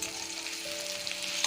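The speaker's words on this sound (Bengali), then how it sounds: "পেঁয়াজটা ভাজা ভাজা হয়ে গেছে" Onions frying in white oil give a steady close sizzle, continuous and even throughout, with no voices.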